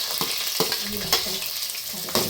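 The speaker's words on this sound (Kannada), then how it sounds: "ಇದೊಂದು ಸ್ವಲ್ಪ ಫ್ರೈ ಮಾಡ್ಕೊಳ್ಳಿ." Onion, chili, garlic, curry leaves and tomato sizzle and crackle in hot oil in a pan, with close, steady frying hiss and a few sharp pops or stirring clicks.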